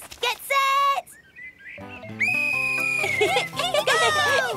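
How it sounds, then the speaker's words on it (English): Cartoon whistle blown to start a race at the beach, a bright shrill tone near the start, then long warbling whistle-like notes mixed with excited cartoon voices and music. "I can start you off with my whistle."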